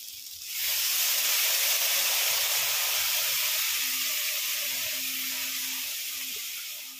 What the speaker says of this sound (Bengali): হালকা করে একটু জল ছিটিয়ে দেব।